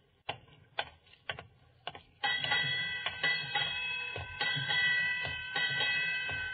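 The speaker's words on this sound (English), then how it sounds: "Eight bells." A ship's bell strikes eight bells at midnight in an old-time radio drama, a run of ringing strikes with lingering tones, preceded by a few sharp clock-like ticks.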